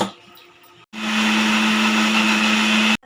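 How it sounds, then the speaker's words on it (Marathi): A mixer grinder blends masala paste for pomfret saar: after a short quiet moment the motor starts with a loud, steady whirring roar, runs evenly for about two seconds, then cuts off abruptly. "पुन्हा थोडा वेळ मिक्सर लावायचं"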